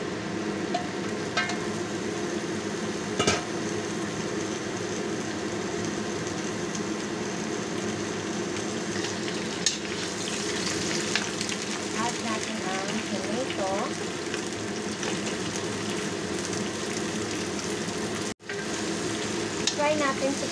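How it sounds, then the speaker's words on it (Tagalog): Tomato frying in a pan for oxtail soup, a steady loud sizzle running throughout with occasional stirring clatter. "Fry natin yung tomato, yung may tomato, fry natin siya ng 5"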